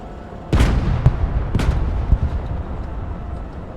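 An Abrams tank in the strategy game Broken Arrow fires its main gun at a target, two sharp booming blasts close together, each trailing into a rumbling echo and low background noise.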